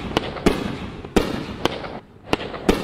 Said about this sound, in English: Oh, the sound out of the cake is a little weird.